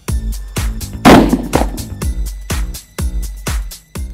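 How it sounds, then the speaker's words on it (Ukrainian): A Blaser R8 Ultimate rifle fires from a sitting position, a loud, sharp shot near the listener with a rolling echo, among several other distant gunshots sounding at intervals. "прицілюємось і виконуємо постріл з положення сидячи."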